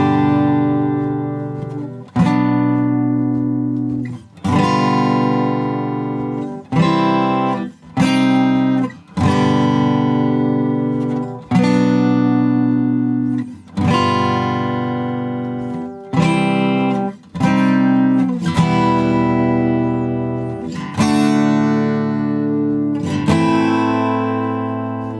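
An acoustic guitar plays the bridge of a song from Encanto, strumming strong sustained chords alone and up close, with short rhythmic breaks between phrases.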